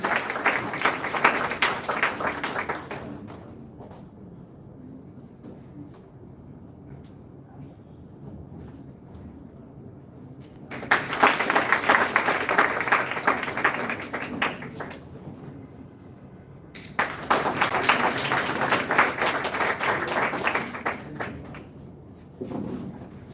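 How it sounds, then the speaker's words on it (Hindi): An audience at a college live class bursts into applause to welcome a guest, with three clear rounds of dense clapping separated by quieter pauses carrying faint room noise. "मैं चाहूंगी आप जोरदार तालियों से सर का एक बार पुनः स्वागत करें।"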